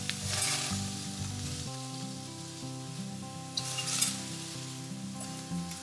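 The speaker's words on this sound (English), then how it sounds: "Now that the shallots have turned translucent and the garlic has cooked down, we're going to add the chopped mushrooms." Chopped mushrooms and spinach fry in a pan with softened shallots and garlic for a classic quiche filling, giving a steady, close sizzle that runs throughout beneath tonal background music.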